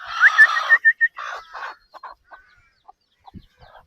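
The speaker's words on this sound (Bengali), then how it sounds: "কতগুলো মুরগি এই যে গ্রামে।" Village chickens cluck and call in a short burst of sharp notes up close, then the sounds fade to scattered faint clucks with quiet gaps.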